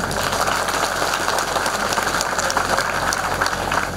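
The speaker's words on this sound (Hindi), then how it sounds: "उनका धन्यवाद करें ताली बजाकर" A large outdoor crowd at a yatra gathering in Rajasthan claps in thanks, a continuous, rough roar of many hands mixed with a low steady hum, loud and without pauses.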